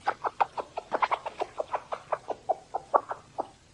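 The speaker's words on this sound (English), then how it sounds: "Beckett, what do you think this chicken's feeling?" A chicken clucks in a steady run of short, evenly spaced calls, about twenty in under four seconds, close and fairly loud with no talking over it.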